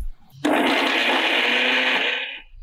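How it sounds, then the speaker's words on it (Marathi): A kitchen mixer grinder whirs loudly as it grinds pieces of bread into fine crumbs in its jar, starting abruptly and running steadily for about two seconds before cutting off. "तो मी मिक्सरच्या भांड्यामध्ये हे ब्रेड बारीक करून घेते"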